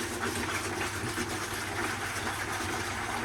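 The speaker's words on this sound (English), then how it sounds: "We're going to run the tap, just fill the tank water" A tap runs steadily into an aquarium tank, a constant rushing hiss of water filling with no pauses or voices.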